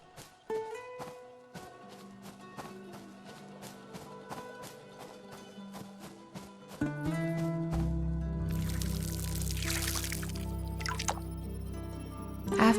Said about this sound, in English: Then I watered the beet seeds.